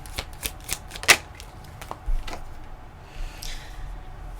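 Tarot cards shuffled by hand, a run of close, crisp riffling flicks and taps followed by softer sliding and rustling.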